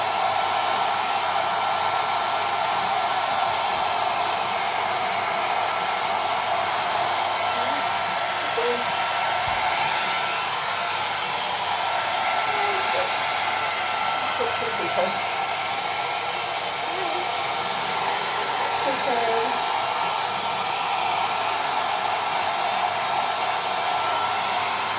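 A hair dryer blows steadily and loudly for a long stretch while a cat is dried after a bath at home, its airflow hum unbroken from start to finish.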